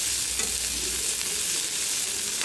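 An onion mixture roasting in an iron kadhai sizzles steadily, with a continuous frying crackle and the soft scrape of stirring throughout.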